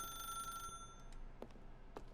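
An in-game telephone in The Stanley Parable rings in short, bright repeated bursts that start, briefly pause, then return as a few sharper ring pulses, heard alone without talk.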